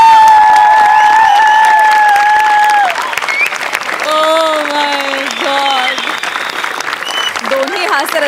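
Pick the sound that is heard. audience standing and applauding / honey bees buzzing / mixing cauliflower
audience standing and applauding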